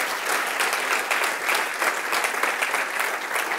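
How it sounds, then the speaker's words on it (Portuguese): A church congregation applauding loudly during a worship celebration, a dense, steady roar of many hands clapping together close by, with no talk over it. "aplauda forte o nome dele"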